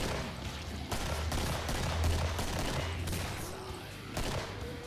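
Rapid gunfire from the video game Killing Floor crackles in dense overlapping bursts, fairly quiet and steady throughout, with a few sharper shots standing out.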